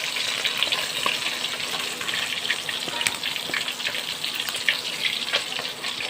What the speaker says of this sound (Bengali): বাকি মাছগুলো এভাবে ভেজে নিয়েছি।